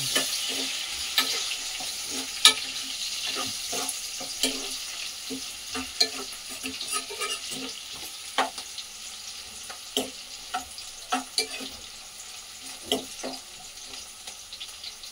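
Brinjal (eggplant) frying in a pan, with a soft continuous sizzle and repeated sharp scraping clicks from stirring, close by and with no talk.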